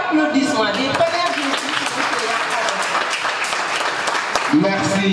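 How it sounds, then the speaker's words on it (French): Audience applause at a free training event on entrepreneurship and digital marketing, a dense steady wash of clapping filling the whole stretch at full level, with voices mixed in underneath. "Des tonnerres d'applaudissements"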